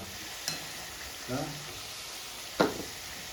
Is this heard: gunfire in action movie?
no